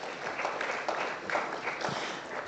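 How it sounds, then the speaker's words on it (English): Lecture audience applauding at a public lecture: a moderate patter of many hands clapping, fairly steady with a few louder bursts, short and without voices. "Shall we give them a round of applause?"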